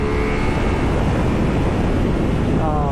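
Ducati Multistrada V4S 170-horsepower motorcycle engine pulling hard under acceleration, a steady loud roar mixed with heavy wind buffeting throughout.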